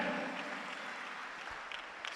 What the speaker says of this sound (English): Give Jesus a clap of praise.